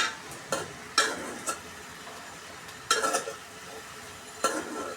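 Chopped garlic frying in a pan for a shrimp and taro-stem curry, with a soft sizzle underneath and several sharp scraping strokes of a spatula stirring it at irregular intervals.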